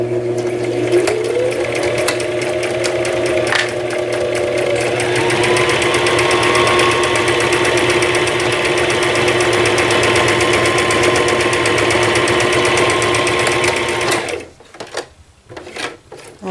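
A sewing machine stitches a cross stitch finishing piece in a long steady run, its motor humming and needle tapping continuously before it stops and a few quieter handling sounds follow.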